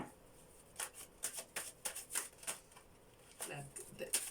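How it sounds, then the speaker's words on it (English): A deck of cards being shuffled during a card reading, with quick repeated riffle bursts in an irregular rhythm, close and quiet. "Shuffle, shuffle, shuffle,"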